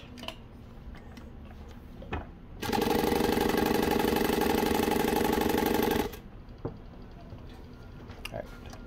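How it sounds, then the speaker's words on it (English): A Juki DU-1181N industrial walking-foot sewing machine runs steadily for about three seconds, sewing a line with a loud, even mechanical whir, framed by quieter handling clicks and rustling before and after. "I'm going to pull the bobbin thread up. And I'll sew a line."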